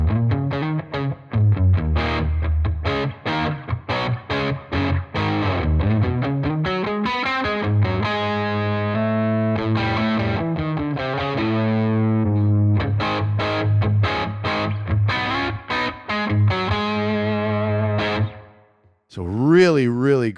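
Electric guitar runs through a Line 6 HX One effects pedal into an amp placed after the effect, playing a long run of distorted, chorus-tinged single notes and chords that ends with a brief pause and a final strum.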